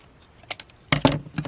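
Scissors cut paper for a junk journal: a few crisp snips and rustles, close and fairly loud, clustered in a short burst with no talk.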